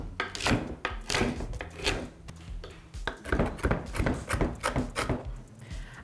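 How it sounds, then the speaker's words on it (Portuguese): A knife chops through chilled, hard Brazil-nut praline on a board, giving irregular crunchy cracks and scraping strokes, close and fairly quiet, with no talking. "Antes de cortar o bolo, a gente vai picar a nosso pralinê de castanha"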